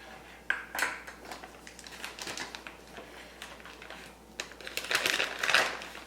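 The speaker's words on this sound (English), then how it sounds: "So I'm putting some almond here." Almonds drop into a smoothie blender container in a series of light clicks and rattles, scattered unevenly and fairly close, with a brief busier clatter near the end.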